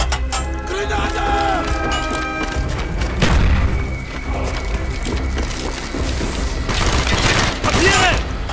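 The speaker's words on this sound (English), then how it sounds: "Grenade!" A grenade blasts in a WWII shooter game (Project Nova), with a heavy thump and booming bursts amid clanking mechanical game noise, while voices call out over the action.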